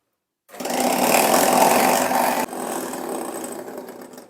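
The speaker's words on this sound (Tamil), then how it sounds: "ஒரு ஹேண்ட் பீட்டர் எடுத்துகிட்டு இதை விப் பண்ண ஆரம்பிக்கணும்" An electric hand beater whips a marshmallow mixture in a bowl, a steady close motor whine with a rough buzzing edge that runs loud and continuous, then drops a little in level about halfway through and keeps going.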